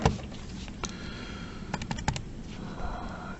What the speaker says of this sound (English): So we type this into the calculator.